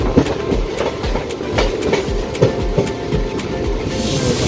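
Onboard the Tiruchendur Express, the train rolls along with loud rhythmic clickety-clack of wheels over rail joints and a continuous rumbling carriage noise close around the listener.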